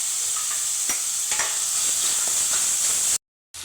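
Onion, green chili and curry leaves fry in a pan with a loud, steady sizzle and soft stirring scrapes, close by, ending in a sudden brief cut to silence.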